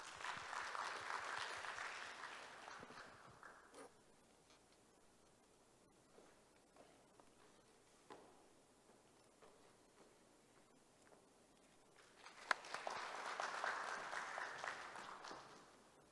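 Audience applause at the opening ceremony of a naval architecture society's annual meeting, soft and distant: one burst of clapping fades out, a quiet stretch with faint rustles follows, then a second round swells up.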